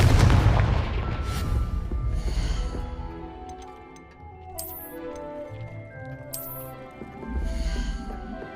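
Confringo fire spell blast in the Hogwarts Legacy video game, a loud booming burst at the start that rumbles and fades over several seconds, with fainter magical shimmers and swells following.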